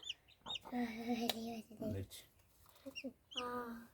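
A newly hatched chicken chick gives short, high peeping chirps in a few scattered bursts, close by, mixed with louder voices talking.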